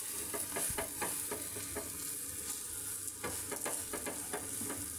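A palak spinach omelette fries in a pan, with a steady close sizzle and a run of quick scraping strokes as it is turned and pressed.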